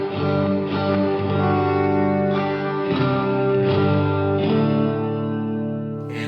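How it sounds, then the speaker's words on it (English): A Cornerstone Nucleo pedal with its reverb fully wet and no dry signal turns a series of sustained chords into a dense, smeared wash that swells with each new strum and rings on steadily throughout. "If I put the reverb all the way up, it's only wet."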